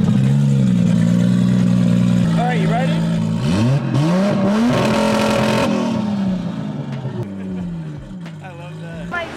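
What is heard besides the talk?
JDM car engine revving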